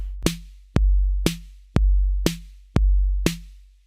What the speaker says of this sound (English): we're going to have snare on 2 and 4 and a kick on 1 and 3